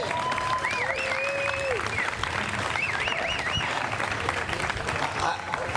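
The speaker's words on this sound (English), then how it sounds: "Please give them a round of applause." Steady, dense applause from a crowd fills the whole stretch, with a few whistles and cheers rising above the clapping.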